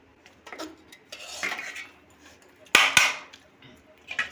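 A metal serving spoon clinks and scrapes against a pot while biryani gravy is served, a couple of bright sharp knocks amid softer scraping, close and alone.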